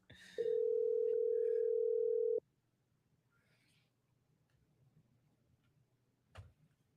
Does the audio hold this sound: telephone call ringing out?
yes